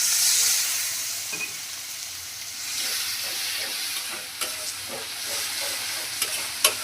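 Ground spices (turmeric, chili and coriander powder) with a little water sizzle and hiss in a hot pan as a spoon stirs them, with soft scraping clicks in the steady fry and no one speaking.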